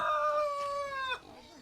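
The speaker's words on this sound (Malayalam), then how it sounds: "കോഴിക്ക് ഇപ്പൊ നേരം വെളുത്തിട്ടുള്ളൂ തോന്നുന്നുണ്ടോ" A rooster in Malawi crows once, loud and close, a long drawn-out call with a rising then falling tail.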